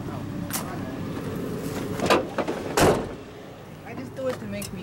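Door on a 1994 Plymouth Colt being shut, heard as a couple of solid thuds amid engine-bay work and background noise, with people talking nearby.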